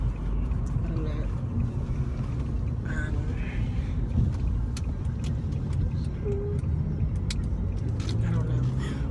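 A car rolling along a road with a steady low engine and tyre rumble inside the cabin, occasional faint clicks and background voices.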